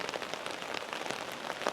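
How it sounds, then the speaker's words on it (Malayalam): Heavy rain falls steadily on surfaces in the Zhangjiajie Grand Canyon, a dense, even patter of drops close by, with no voices. "മഴ ഇപ്പോഴും ശക്തമായി പെയ്തുകൊണ്ടിരിക്കുകയാണ്"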